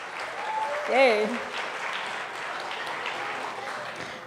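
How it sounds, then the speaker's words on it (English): A crowd applauds in a steady wash of clapping while someone cheers over it, the clapping continuing evenly to the end. "Can we have another round of applause"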